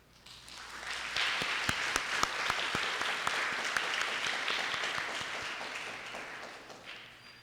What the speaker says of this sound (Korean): 인사하시면 큰 박수로 환영합시다.